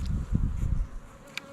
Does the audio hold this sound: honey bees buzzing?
yes